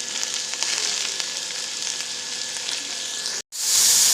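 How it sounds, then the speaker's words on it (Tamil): Onions go into a pan of fried garlic for a dried fish dish, producing a loud steady sizzle that cuts out briefly near the end and then surges back louder. "பூண்டு பொரிஞ்சதுக்கப்புறம் வெங்காயம் போடலாம்"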